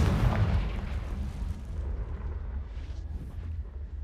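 A Confringo spell explodes in the Hogwarts Legacy video game, a heavy booming blast that rolls into a deep, fading rumble.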